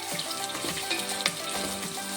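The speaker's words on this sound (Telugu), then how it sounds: "ఒక 3 నిమిషాల పాటు బాగా వేయించండి" Chopped onion pieces fry in a pan while making millet upma with cashew nuts, giving a close, steady sizzle with a few soft stirring clicks and scrapes.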